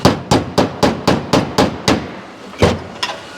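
A body hammer strikes the sheet metal of a 1957 Chevy's trunk floor in a steady run of sharp, ringing blows, about eight in quick rhythm, then a pause and two more hits.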